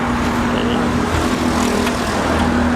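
Toyota Revo pickup, a lowered street-racing build converted to a 2020 Rocco front, engine droning steadily and loud up close with a constant rough rumble throughout.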